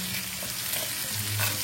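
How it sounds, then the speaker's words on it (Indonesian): Ingredients for sambal geprek frying in a pan, giving a steady, close sizzle with light stirring and no talk. "Ini kita goreng sampai udah kecium wanginya"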